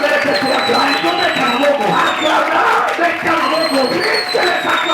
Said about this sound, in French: J'aimerais que tu acclames.